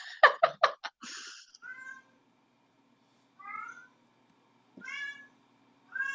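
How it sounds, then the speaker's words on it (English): A cat meows repeatedly, close and clear, with a quick burst of chirpy calls at the start and then drawn-out meows separated by short silences. "she's got that male cat there right there"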